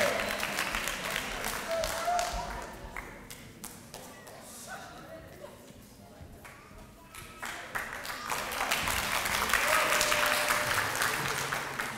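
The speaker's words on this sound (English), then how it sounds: "Hey, round of applause, yeah." A crowd applauds at a World Refugee Day celebration and graduation, the clapping swelling and fading in waves, with thuds, taps and a murmur of voices mixed in.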